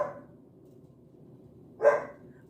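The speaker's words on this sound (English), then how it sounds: "I'm trying to figure out if he's barking at me or if somebody's at our door." A dog barks indoors, one clear bark partway through with another starting at the end, over a quiet room.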